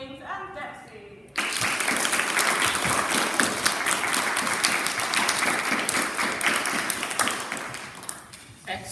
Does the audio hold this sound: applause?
yes